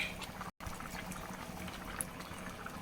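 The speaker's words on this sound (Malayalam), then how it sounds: "കുറച്ച് വെള്ളം ഒഴിച്ചൊന്ന് ചുറ്റിച്ചൊഴിച്ച് കൊടുക്കാം" Water poured into a pot of cooked dal curry, a steady liquid pour and bubbling simmer that runs continuously at moderate level, broken by one brief dropout near the start, with no talking.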